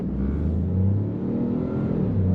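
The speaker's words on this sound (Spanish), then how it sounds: "Acelera bastante despacito, es un coche de budget, un coche de familia" A 2021 Peugeot 208 GT accelerating in Sport mode, a steady mid-pitched engine drone with rising revs heard from inside the cabin, continuous and fairly loud with no talk.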